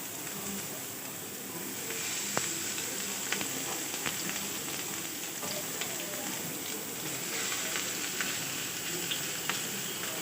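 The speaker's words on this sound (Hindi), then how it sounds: "इसी तरह ये सारे कबाब हम इस तरह पे अपने पैन पे रखेंगे, बिल्कुल स्लो फ्लेम पे हमने इनको पकाना है।" Beef chapli kebabs fry in a pan over a slow flame, giving a steady, fairly quiet crackling sizzle that runs unbroken throughout, with a few sharper pops.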